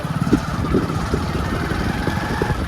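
A small motor vehicle engine runs steadily nearby with a low, rough idling rumble and no talking.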